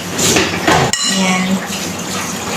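Rice flour and one egg are mixed in a bowl, with loud clattering clinks of a utensil against the bowl and a sharp knock, then softer scraping.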